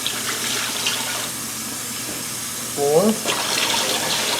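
Tap water runs into a measuring cup in a home kitchen while pickles are made, a steady low wash under a voice counting aloud.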